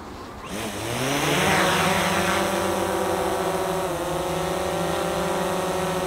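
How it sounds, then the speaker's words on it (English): A drone's propellers spin up for an automatic takeoff, rising quickly into a loud, steady high-pitched whine with layered motor tones that sustain and shift slightly in pitch as it climbs. "I manually turned the drone around the other way, and we'll do an auto takeoff this time."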